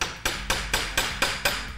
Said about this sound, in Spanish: Solo necesitamos una palanca, un poco de cariño y un martillo.